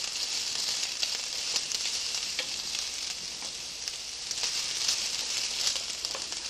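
Onions and peppers sautéing in a pan as the base of a marinara sauce, a constant close sizzle with faint ticks and scrapes of stirring and no speech.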